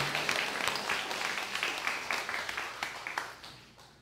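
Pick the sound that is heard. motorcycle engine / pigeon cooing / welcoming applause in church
welcoming applause in church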